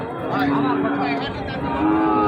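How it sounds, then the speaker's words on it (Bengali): A cow or Sahiwal bull calf moos loudly and close at a border-area cattle market, one long drawn-out bellow with faint crowd murmur behind. "আর এই হলো গরু দর্শক"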